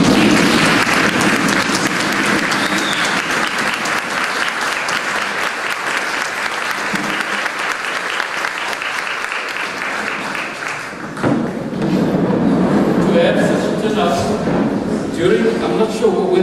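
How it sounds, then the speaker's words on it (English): Sustained applause from a university student audience at a maths club launch, loud and dense for about eleven seconds, then thinning into scattered clapping with voices talking over it. "Please stand and give yourself a round of applause."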